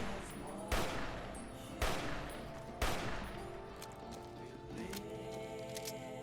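Three loud, distinct gunshot blasts from Fallout: New Vegas, spaced about a second apart, each ringing out with a long reverberant tail, followed by quieter ongoing game sounds.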